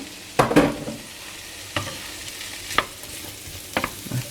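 Cacciatore sausage and speck frying in a pan, with a soft background sizzle broken by several sharp, close scrapes and clatters of a utensil stirring the meat, spaced irregularly and no voices.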